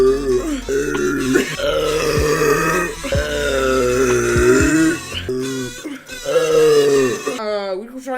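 Repeated deep, throaty burps after drinking from a one-litre bottle of ginger ale, loud and close, coming in a rapid series of drawn-out belches with brief gaps between them.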